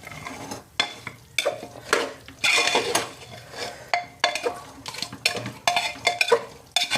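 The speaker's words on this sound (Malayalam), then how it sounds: "ഇനി നന്നായി ഒന്ന് മിക്സ് ചെയ്യുക." Chicken being stirred in a pot for a curry, with a spoon scraping and clinking against the pot in repeated irregular strokes over a soft sizzle, close and fairly loud with no talking.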